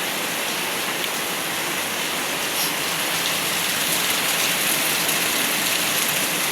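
Heavy rain pours down in a steady, dense hiss that stays loud and even throughout, with no voices.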